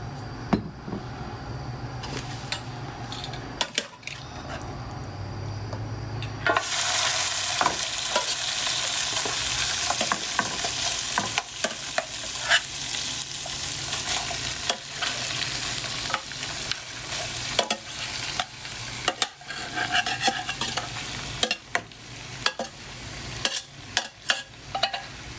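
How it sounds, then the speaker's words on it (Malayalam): Cooked beef for Kerala beef fry is fried in a little oil in a pan, starting quiet before a loud sizzling rush, then continuing as steady frying with frequent stirring clatters and scrapes, no voices. "നമുക്ക് പാൻ വെച്ച് ചൂടായിട്ട് ഇതൊന്ന് എണ്ണ ഒഴിച്ച് ഫ്രൈ ചെയ്തെടുക്കാം."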